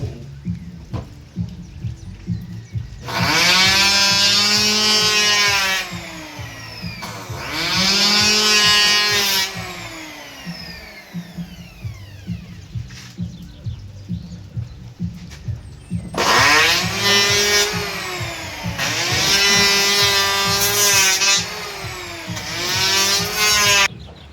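A power saw whines loudly through repeated cuts, rising and falling in long bursts with brief idling gaps between them.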